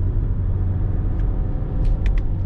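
A car carrying a THULE Motion XT L roof box runs downhill on a winding road, giving a steady low road and engine rumble with faint brief high ticks near the end.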